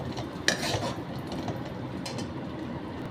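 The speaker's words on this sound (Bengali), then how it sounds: "জাস্ট নাড়ানাড়ি" Raisins stirred in a pan while preparing a mutton dish, a spoon scraping and clinking against the metal in short close strokes with a faint sizzle underneath, no talking.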